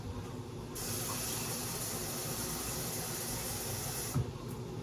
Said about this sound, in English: So I'm using 1 cup of water. I'm gonna pour it in the pot.